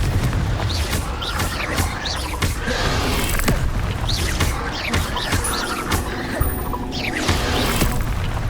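Confringo fire-blast spell cast in Hogwarts Legacy, a string of loud bursts and crashing impacts over busy combat noise, with a spoken voice mixed in.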